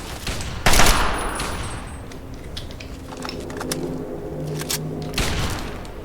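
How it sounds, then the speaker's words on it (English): Gunfire in Fallout 3, with a shooter pumping round after round into a dead body; loud shotgun-like blasts at the start and near the end, lighter scattered shots and clanks between. "He really likes shooting that dead body of that first guy."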